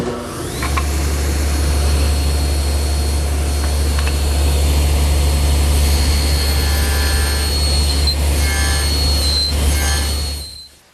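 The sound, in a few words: table saw cutting a haunched tenon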